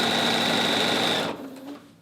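A sewing machine stitching quilt binding at a quarter-inch seam runs in one loud, fast, steady whir that stops abruptly partway through, leaving a brief quieter mechanical hum.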